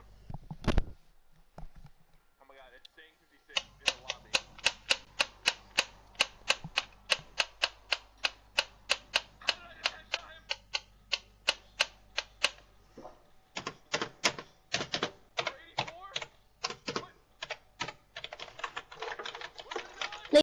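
A computer keyboard clatters with rapid, steady keystrokes, close and crisp, pausing briefly near the middle before resuming, heard during a Fortnite duos session with no talking.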